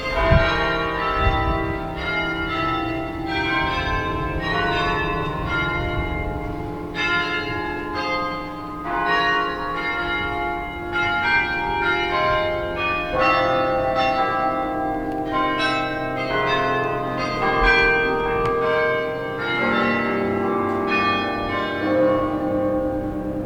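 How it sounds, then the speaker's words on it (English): Church bells peal from the belfry in Bruges, a steady cascade of overlapping strikes ringing out in changing patterns for over twenty seconds, moderately loud with no talk over them. "They are some good bells"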